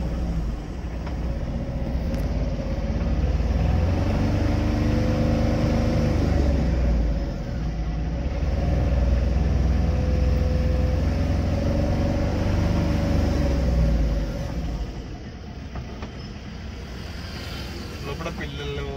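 An auto rickshaw rides along a road between Turkapalli and Kompally near Shamirpet, heard from inside the cabin as a steady, loud low engine rumble and road noise that dips briefly near the end, with a voice talking over it.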